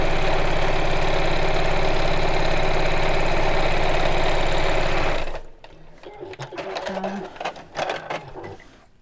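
A sewing machine stitches in a steady, fast, loud mechanical whir for about five seconds, then stops, leaving softer clicks and handling noises.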